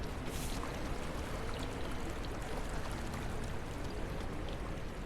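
In the flood-pumping game DrainSim, water pours steadily into a pump with an even, unbroken rushing flow that runs throughout at moderate level, with no talking.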